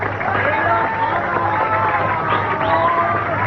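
A theater audience claps and cheers for a singer after his song, a dense, steady wash of applause with scattered whoops that holds at an even level throughout.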